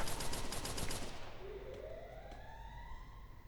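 In the Free Fire video game, a rapid burst of gunfire rattles loudly for about a second, then fades into a rising, siren-like whine and lingering rumble.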